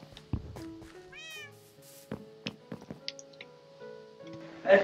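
Domestic cat meowing up close indoors, a few short rising meows amid soft rustling and small taps, with a louder sound at the end.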